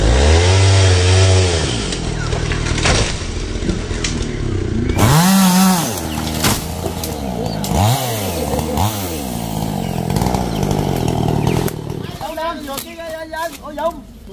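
A chainsaw under home repair, one that bogs when throttled, revs loudly and repeatedly, its engine pitch swooping up and down in close bursts, with a voice heard briefly near the end.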